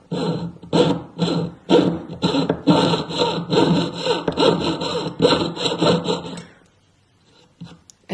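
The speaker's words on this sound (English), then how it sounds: "We are going to make a small cut on the scribe line, but we are not going to cut through the piece of metal." A small saw cuts a notch into metal ring wire with repeated quick back-and-forth strokes. The rasping is close and rhythmic for about six seconds, then stops and leaves near silence.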